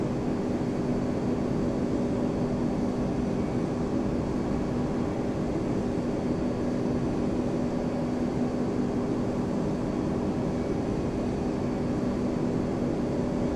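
Iberia airliner engines spooling for takeoff in Flight Simulator X, a steady, loud broadband jet roar with a constant low hum that holds unchanged throughout with no talk.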